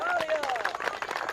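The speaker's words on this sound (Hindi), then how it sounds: "तालियां।" A crowd claps at a gathering while voices and a faint whistle-like tone sit over the patter, steady and moderately loud.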